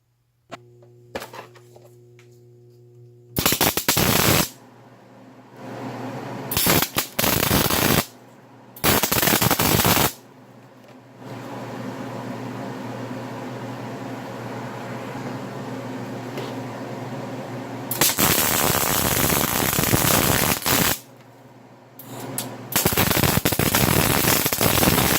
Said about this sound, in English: I'm going to fire up the MIG, just maybe tack 3 spots